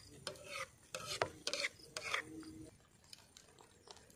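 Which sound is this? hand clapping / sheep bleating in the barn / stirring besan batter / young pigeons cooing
stirring besan batter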